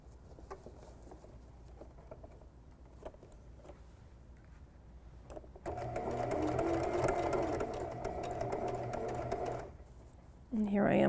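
A sewing machine stitches a small fabric mouse ornament through a thick split-open back seam, a steady close whir starting midway under quiet handling sounds, stopping, then restarting briefly at the end.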